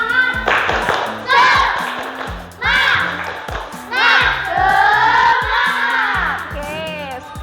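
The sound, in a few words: group rhythmic clapping chant, tepuk semangat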